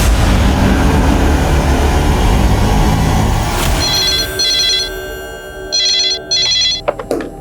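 At a police station, a telephone rings in short electronic bursts after a loud rumbling stretch of noise fades, the rings coming in two clear pairs, fairly near and alone without speech.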